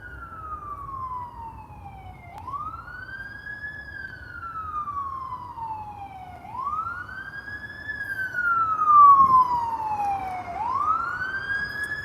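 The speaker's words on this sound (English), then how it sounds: "And that's a fire truck, not an ambulance." A fire truck's wailing siren rises and falls in long, slow sweeps, loud and steady over a low traffic rumble, with a faint higher whoop layered on top.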